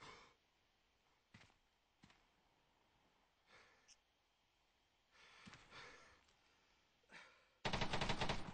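Arma 3 military combat: faint, distant single gunshots crack at scattered intervals, then a machine gun opens up in a dense, rapid burst of fire that is suddenly much louder and closer.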